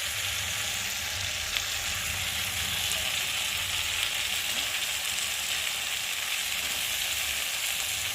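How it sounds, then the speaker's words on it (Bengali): Cabbage fries in oil over a cooked masala in a pan, producing a steady, dense sizzle that hisses evenly throughout. A faint clink or two of stirring sits under it, with no talk. "আর একটু ভালো করে নেড়ে ছেড়ে আর এখন আমি ওপর দিয়ে বাঁধাকপিগুলো দিয়ে দেবো।"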